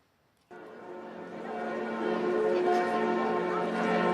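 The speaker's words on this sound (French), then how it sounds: "les cloches de Notre-Dame de Paris ont résonné en fin d'après-midi" The bells of Notre-Dame de Paris peal in the late afternoon, starting abruptly and swelling into a dense, ringing wash of overlapping strokes that stays loud and sustained.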